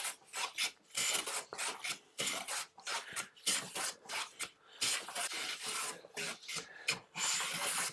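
A blade shaving very thin wood curls off a guitar fretboard, heard close up as a fast series of dry rasping strokes with brief gaps between pushes, alone without talk.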